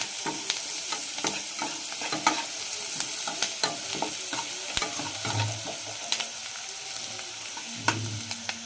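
Onions for a village-style egg curry sizzle steadily in a pan while a spoon stirs them, giving a continuous close hiss dotted with scraping taps and a couple of low knocks, without voices.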